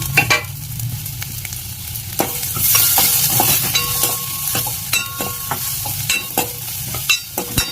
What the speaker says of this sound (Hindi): तड़का लगाने के लिए एक और बर्तन में हम लेंगे 1 टेबलस्पून सरसों का तेल।